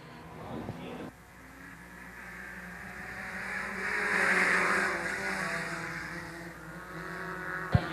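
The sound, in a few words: stock cars revving and accelerating at the green flag start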